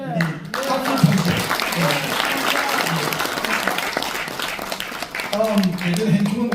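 An audience at a Korean senior-citizens award ceremony and seminar applauds an introduced guest, sustained dense clapping filling the room, with a voice speaking at the start and again near the end.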